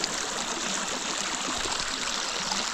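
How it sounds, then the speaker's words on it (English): Water runs steadily from a small waterfall at a village home, a continuous close rushing and trickling flow with no voices. "Water is running."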